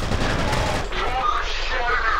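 Dense gunfire in the shooter game F.E.A.R., a continuous loud rattle of rapid shots that thins into rumbling echoes and softer distant bursts.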